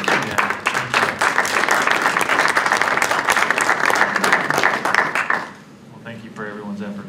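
A city council meeting room breaks into steady applause that fills several seconds, then stops abruptly, leaving quieter room sound and voices.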